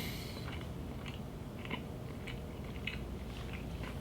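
Someone chewing and biting into egg custard, soft close crunchy bites and mouth sounds scattered over a steady room hum, no talk.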